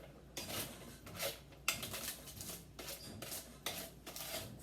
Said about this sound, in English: I have a little spatula here, and I'm going to take and shake these around.